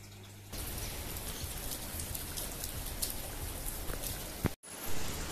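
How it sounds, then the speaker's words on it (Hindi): Steady rain pattering down on surfaces, a dense continuous hiss of drops close by, with a brief dropout near the end. "बारिश लग चुकी है"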